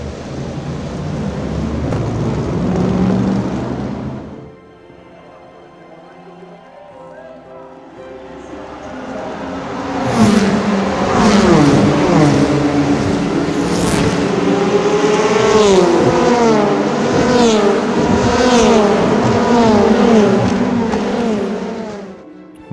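Ford GT race cars at Le Mans, running slowly behind a safety car on a wet track, roar loudly and continuously after a quieter opening with talk; engine tones rise and fall beneath the dense noise.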